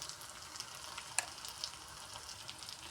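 Onions fry with ginger garlic paste and turmeric for an egg omelette curry, giving a soft, steady sizzle. A single sharp clink of a utensil cuts through about a second in.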